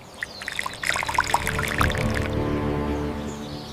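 Herbal tea made from leaves boiled with turmeric being strained, a steady pour and trickle of liquid running continuously through a strainer, close and moderately loud with no talking.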